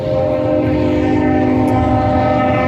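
A loud train rumbles steadily nearby while a sustained horn tone sounds over the rolling noise.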